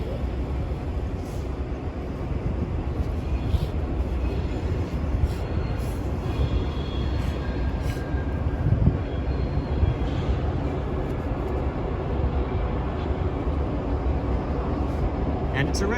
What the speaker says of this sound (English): I think this is probably that inbound with 2 locomotives that we saw a little while ago.